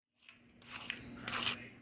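Crispy oven-baked chimichangas are tapped, making dry, crackly clicks and scrapes. The sound is quiet and close, with two brighter bursts of crunch.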